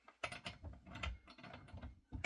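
Someone works the clutch and sprocket off a Holzfforma G260 chainsaw, making quiet, close metallic clicks and ratcheting rattles in an uneven stream with no speech.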